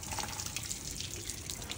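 Water from a tap rushing steadily for washing a car, a continuous splashing hiss that stays at an even moderate level throughout the short stretch, with no speech.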